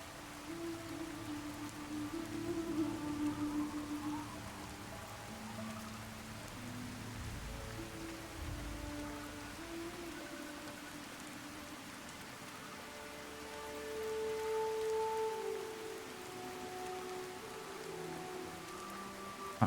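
Steady rain pours down in the Fallout: Tale of Two Wastelands video game, a constant dense hiss that swells a little in places and has faint low rumbles beneath it.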